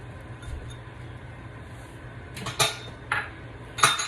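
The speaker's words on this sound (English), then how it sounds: "Now, add your potatoes. And your corn." Chopped potatoes and corn go into a pot for chicken corn chowder, producing a few brief clinks and clatters near the end over a low kitchen hum, with no talking.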